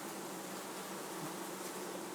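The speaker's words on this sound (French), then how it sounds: "Ruth observe les abeilles sur le dernier cadre et sur le haut des cadres." Honeybees hum steadily at an open Swiss-style beehive during a summer colony inspection, a dense, continuous buzz close by with no voices.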